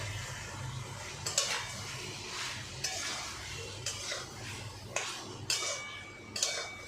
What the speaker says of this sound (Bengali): এই ডিমের সঙ্গে ভালো করে কষাবো